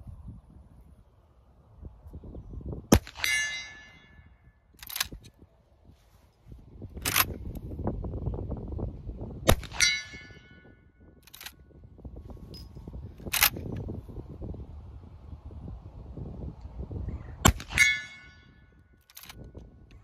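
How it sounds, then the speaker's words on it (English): Seven sharp metallic rings as 200 grain .45 Colt bullets from a Marlin 1894 Cowboy Classic lever-action rifle strike an AR500 steel target, each clang spaced a few seconds apart, with faint handling noise between hits. "I know y'all can hear that 200 grain bullet smacking that Rangetime AR 500 steel target."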